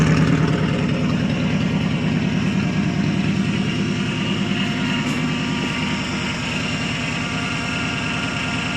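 A crusty 1985 Chevy Suburban squarebody plow truck with a straight-pipe exhaust idles after a cold start, a loud, steady, rumbling drone that holds evenly throughout with no voices.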